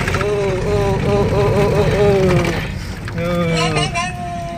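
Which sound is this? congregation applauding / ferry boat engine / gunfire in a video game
ferry boat engine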